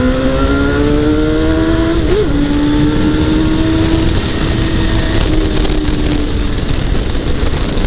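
A motorcycle engine revs hard as the throttle is opened, a loud sustained drone whose pitch climbs, wavers and settles again, close to the microphone with heavy wind rush and no talking.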